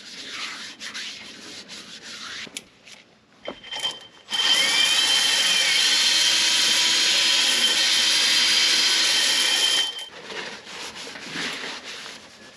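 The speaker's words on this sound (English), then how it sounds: "that ball hone's getting out that really gummy stuff in there" Ball hone spun by an electric drill inside an oiled cylinder sleeve of a 1939 Caterpillar D4 diesel engine, a loud continuous abrasive whirring for about six seconds between quieter scraping and handling noises.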